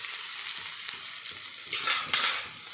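Ivy gourds (dondakaya) fry in a pan over medium flame, giving a continuous bright sizzle with a few spatula scrapes and clicks, close and fairly quiet, no voices.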